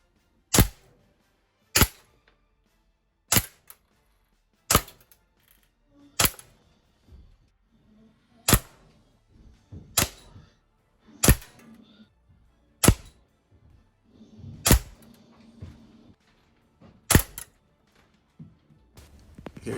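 A Walther CP99 Compact CO2 BB pistol fires about a dozen sharp, snappy shots indoors in a basement, spaced roughly one to two seconds apart, each crack followed by faint handling clicks and rustle.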